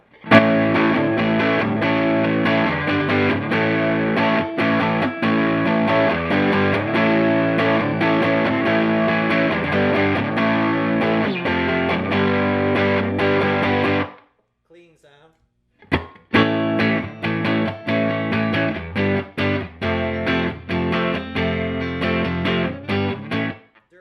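Overdriven electric guitar through an engaged Ibanez TS9 Tube Screamer reissue pedal plays a dense, continuous riff with a short gap midway before resuming, loud and close.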